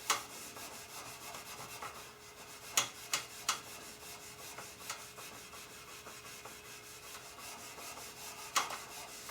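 Steel wool rubs against the chrome grill of a 1972 K25 truck in a faint, continuous scrubbing, with a few sharper scraping strokes scattered through it and no talking.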